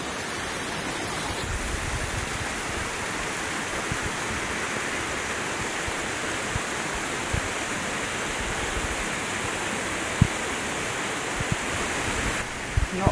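A waterfall near Riva del Garda on Lake Garda, fed from Lake Tenno, roars as a steady, dense wash of rushing water that stays close and loud throughout, with a few faint knocks near the end.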